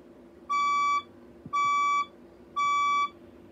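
A red Felicity fire alarm sounds three identical, evenly spaced electronic beeps, each about half a second long, loud and clear over a faint background hum.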